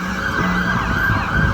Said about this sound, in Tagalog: yung ganyan rito ang bumbero